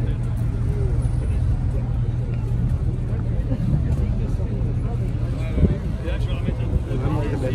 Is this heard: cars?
yes